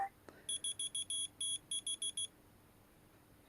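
A whistle-responsive keychain finder beeps back in a rapid series of about twelve shrill electronic chirps in short bursts, close and clear, against quiet room noise.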